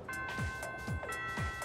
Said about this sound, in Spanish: Ha sonado la primera campana.